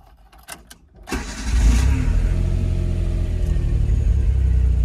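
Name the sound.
1992 Autozam AZ-1 cold start, engine starting and idling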